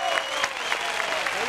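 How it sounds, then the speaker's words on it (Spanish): Studio audience at a live Argentine music and stand-up talk show breaks into steady, dense applause celebrating the show's first month on air, a full close clapping wash lasting throughout. "Primero, un aplauso para Te Lo Juro que está cumpliendo un mes."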